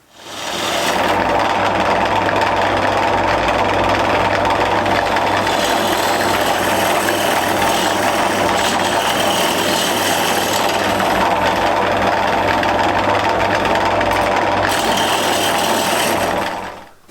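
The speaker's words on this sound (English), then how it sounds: "I'm finding this oak is quite tough to get through, particularly with a 3/8 ball gouge" An oak bowl blank spinning on a wood lathe while a 3/8 ball gouge cuts into the tough grain: a loud, steady rasping roar with a motor hum, unbroken for over fifteen seconds.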